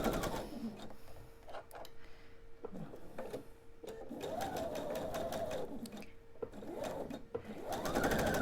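A sewing machine runs in bursts as quilt diamond pieces are stitched for a table topper, a fast steady mechanical whir with short pauses and clicks between runs, close and clear, without speech.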